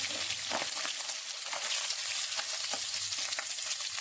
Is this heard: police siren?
no